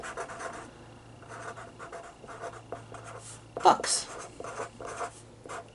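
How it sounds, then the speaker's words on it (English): A pen scratches out a title by hand on paper, soft continuous strokes running beneath a person talking, with a brief louder scrape partway through. "So I'm going to write for my title"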